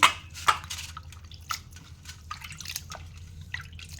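Water used for washing fish is poured onto a plant, giving a few soft splashes and scattered drips that are fairly quiet and irregular, with no voices.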